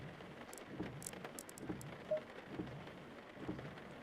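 Steady rain patters on a surface with scattered crisp droplet ticks in a racing video game at a very wet Snetterton. Low rumbling sits beneath it, and no one speaks.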